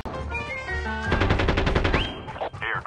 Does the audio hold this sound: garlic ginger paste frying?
no